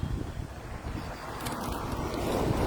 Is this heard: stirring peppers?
no